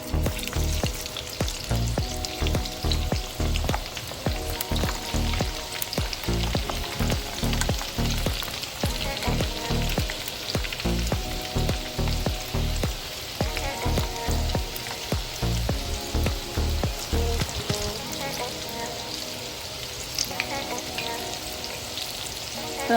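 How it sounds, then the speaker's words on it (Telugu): Garlic, dried red chillies and tempering seeds crackle and sizzle in hot oil for a ginger pickle, a steady loud frying hiss with scattered pops and stirring throughout, no voices. "నూనె కాచుకొని ఫస్ట్ ఎండుమిర్చి వేసుకొని"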